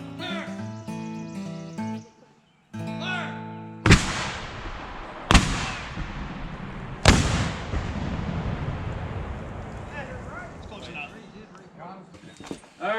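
Three heavy booms from an artillery cannon fired during a Civil War reenactment training weekend, each a sharp loud blast with a long rolling decay, spaced a few seconds apart, with people talking between shots.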